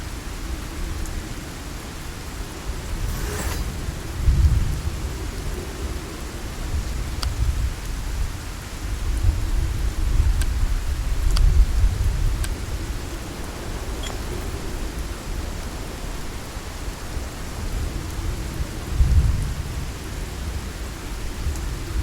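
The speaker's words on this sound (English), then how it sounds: "A storm is coming." Rain and thunderstorm in SpellForce 3, a steady wash of rainfall with low rolling thunder rumbles swelling and fading several times, continuous and fairly loud with no talk.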